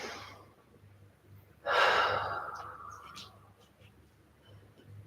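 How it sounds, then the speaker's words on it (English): A slow, deep breath during a yoga session, a soft inhale followed by a long, airy exhale that fades out, quiet and close, with a faint low hum in the background. "just take a few deep breaths here"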